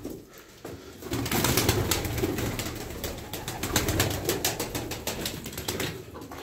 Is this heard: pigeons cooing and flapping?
yes